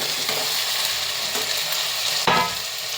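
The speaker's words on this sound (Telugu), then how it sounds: "ఉల్లిపాయలు వేగిపోయిన తర్వాత టమాటాలు వేసుకొని తిప్పేసుకోవాలి." Tomatoes, green chillies and onions sizzle loudly in a pan while being stirred, a steady hiss broken by a few spoon scrapes and a sharp clack near the end.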